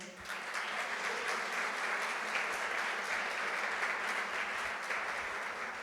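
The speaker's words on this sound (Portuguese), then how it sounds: "Uma salva de palmas para o Senhor." A church congregation applauds together in steady, dense clapping that fills the whole stretch evenly and loudly, with no break and little talk over it.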